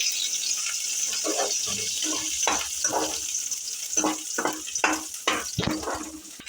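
Chopped green chillies hit hot oil on a high flame for Gobi Manchurian, giving a steady loud sizzle with intermittent scraping and stirring clatter, with no voices.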